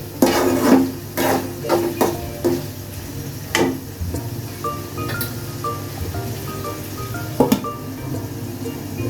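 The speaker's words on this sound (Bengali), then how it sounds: "ভালোভাবে নাড়াচাড়া করে ঢাকনা দিয়ে দিতে" Beef is stirred in a metal pot for a Bengali beef-and-gourd dish, with scraping, clinks and clatter, then the lid goes on with a sharp clank near the end. The sounds come close and loud, in irregular bursts.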